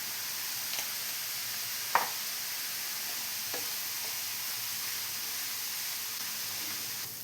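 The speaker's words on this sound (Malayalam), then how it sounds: "ഇനി ഇതെല്ലാം കൂടെ നന്നായി തന്നെ വഴറ്റിയെടുക്കണം." Green chilli, curry leaves and onion sautéing in a pan as an egg keema with green peas is made, giving a steady soft sizzle with a few faint stirring scrapes and one louder clink near the start.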